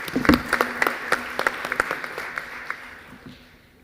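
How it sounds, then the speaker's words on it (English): Applause from a small conference audience for a presenter, scattered sharp claps that start fairly loud and thin out, fading toward quiet by the end. "Give him a round of applause."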